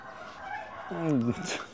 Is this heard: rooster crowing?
yes